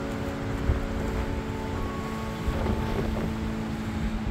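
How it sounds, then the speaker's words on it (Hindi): Sea wind blows steadily on a quiet coast in Mauritius, a constant breathy rush with a low, even hum beneath it and no voices. "क्या मस्त हवा चल रही है"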